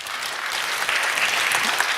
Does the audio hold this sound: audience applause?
yes